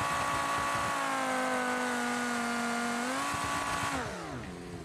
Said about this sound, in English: Currently the one I have is a little louder because I deleted the exhaust system off of it.